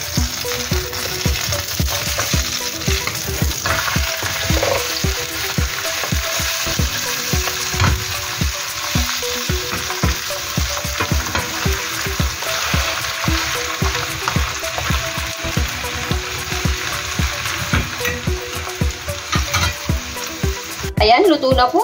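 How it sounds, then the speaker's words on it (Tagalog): A Korean green onion pancake fries in a pan with a steady, loud, continuous sizzle and crackle that goes on throughout, with no talking. "Ngayon naman po is, babalik na rin na po natin ang ating pancake."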